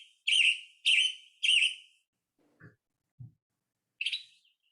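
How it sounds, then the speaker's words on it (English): Western Tanager calls played from a recording: three loud, close, rough two-part chirps in quick succession, a pause with faint low knocks, then one more burred call. "I hear that and I immediately think Western Tanager"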